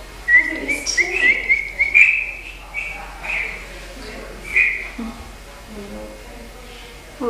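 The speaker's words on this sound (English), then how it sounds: "There's a real bird in that cage." A real caged bird whistles and chirps in a castle breakfast room, bright repeated calls through the first few seconds under murmured conversation and room noise, then fading to sparse faint chirps.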